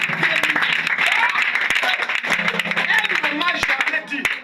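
An audience at a church testimony gathering applauds and cheers loudly and steadily throughout, with a voice calling out over the dense clapping.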